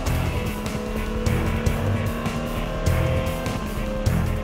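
Race cars at a 24-hour endurance race accelerating hard back to green-flag racing after a long safety-car period, loud engines roaring and whining past in overlapping waves, with repeated surges as cars pass close by.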